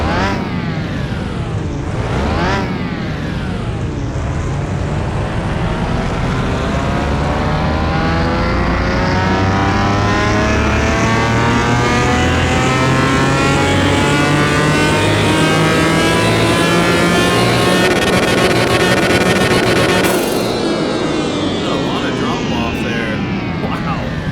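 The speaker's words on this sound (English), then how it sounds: "Let's see what kind of dyno pulls we can get out of this thing." A Pagani supercar engine in Car Mechanic Simulator 21 screams through a long dyno pull, pitch climbing steadily through the gears after a couple of quick blips, loud and continuous for the whole stretch.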